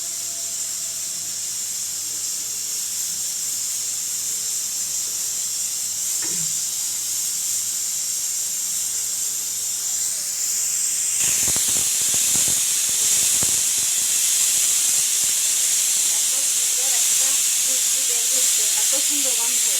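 Steam hisses steadily from a pressure cooker as spicy khichuri cooks on the stove, then a louder, rougher burst of venting steam takes over partway through, with a faint voice in the background.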